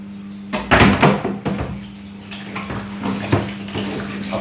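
Water is siphoned out of a newly set up planted aquarium during routine maintenance. Close sloshing and gurgling bursts of water rise and fall over a low steady hum, with no talking.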